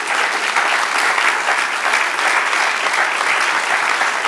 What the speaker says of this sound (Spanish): Sí, dale aplauso al Señor